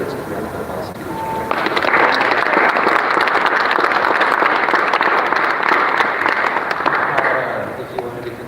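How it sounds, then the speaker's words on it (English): A live audience at a university talk on banned books and censorship breaks into applause, a dense steady clapping that swells after a moment, holds loud for several seconds, then tapers off. "Let's give a round of applause to each other."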